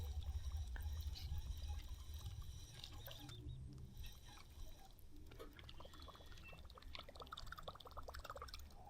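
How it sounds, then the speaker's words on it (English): A fishing lure's spinning impeller churns through lake water, making a faint, continuous bubbling and gurgling with small splashy clicks, heard alone and close. "That way the impeller is at a good angle to spin. And it makes this bubbling sound."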